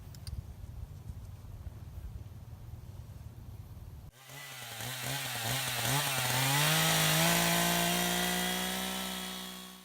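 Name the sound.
chainsaw with a dull chain cutting wood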